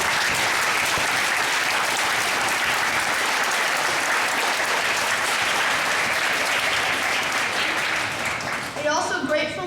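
Steady, dense applause from an indoor audience welcoming veterans at a Veterans Day ceremony, continuous for nearly ten seconds and fading slightly at the end.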